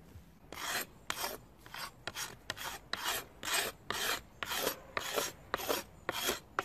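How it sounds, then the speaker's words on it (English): A blade scrapes fine material off a wooden survival crossbow limb in about a dozen rhythmic rasping strokes, close and evenly paced, with no voices. "So I'm just going to take a fine little bit of material off here, just give it a bit of a scraping."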